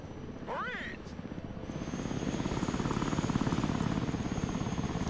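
Osprey tiltrotor aircraft in the Broken Arrow modern warfare strategy game, a steady rotor and engine drone that builds from moderate to loud and holds, with a brief whooshing sweep near the start.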